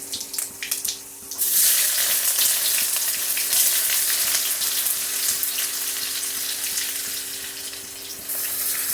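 Chopped onion hitting hot oil with five-spice seeds (panch phoron) for a taro and lentil dish, a loud steady sizzle that flares up after a quieter first second and holds close and continuous with no talking.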